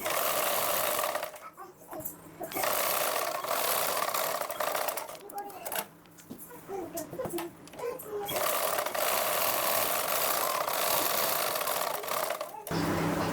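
A sewing machine stitches the front part of a blouse together with its lining, running in loud, fast bursts broken by short pauses, while a voice talks quietly during the gaps.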